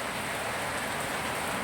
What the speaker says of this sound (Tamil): பாருங்கள் மழை நல்லாவே வசையாக பெய்யுது